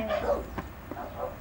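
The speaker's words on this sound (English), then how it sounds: "Oh, look at the little dog up there." A small dog yips and barks a few times, faint and somewhat distant, with short whimpering tones between the barks.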